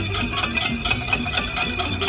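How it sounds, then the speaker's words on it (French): Shallots gently sweating without colour in a small saucepan, a soft continuous sizzle and hiss heard close and alone with no talk. "On fait revenir les échalotes dans cette petite casserole."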